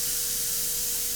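A burger patty sizzles on a flat top grill, a steady hiss with a faint constant tone underneath, alone and fairly soft.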